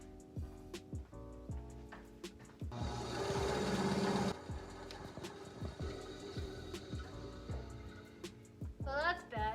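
A bandsaw cuts through wood for a downward-facing camera stand, a dense steady buzz lasting about two seconds, loud and close, surrounded by scattered workshop knocks and handling clatter.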